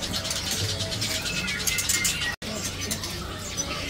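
A cucak pantai songbird calls repeatedly in quick, bright chirps and warbles, close and steady throughout, over faint background noise with a brief break near the middle.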